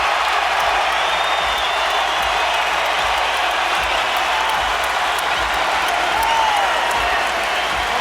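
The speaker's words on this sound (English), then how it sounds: "Crawford brings the crowd out of their seats" A boxing arena crowd in Omaha roars for Terence Crawford during his fight with Raymundo Beltran, a thick, sustained wall of cheering and clapping that stays loud and constant throughout, with a few whistles rising out of the din.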